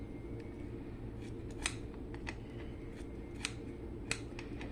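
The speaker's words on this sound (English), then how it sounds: "I find it easier to just do it with my kitchen scissors." Kitchen scissors snip through strips of bacon in a home kitchen, giving a few sharp, isolated clicks spread over a steady low background hum, close and fairly quiet.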